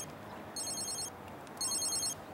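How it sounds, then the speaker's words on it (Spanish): A telephone rings in two bright electronic trilling bursts with a pause between them, over a quiet café background. "Disculpen, atiendo el teléfono y regreso."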